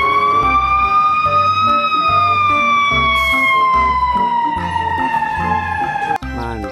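A toy fire truck's wailing siren rises and falls steadily over a bouncy, thumping music beat, loud and close, cutting off abruptly near the end.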